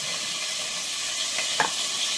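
Steady, close sizzling of fish frying in hot oil in a clay pot, a continuous crackling hiss with a brief louder spatter near the end.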